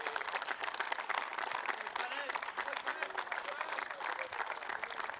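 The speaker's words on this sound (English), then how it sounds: "a big applause to all the crew at Spring Productions" A crowd at a T20 international cricket match in Gibraltar claps for the production crew, fairly faint and steady, with a voice talking over it.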